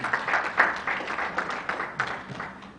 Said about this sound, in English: Can we have another round of applause for both of them?